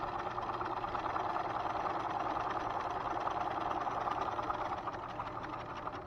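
A sewing machine stitching straight down a fabric seam gives a steady, close mechanical whir that runs unbroken from start to finish with no talking.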